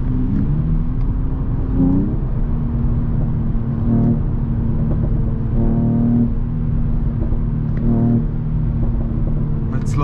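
A 2021 Mercedes-AMG E53 convertible's engine hums steadily and close up, with its pitch stepping through several gear changes as the car pulls along.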